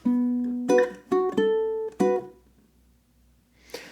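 Several plucked ukulele string notes in a short, gentle sequence, each ringing briefly before the next, ending in quiet decay.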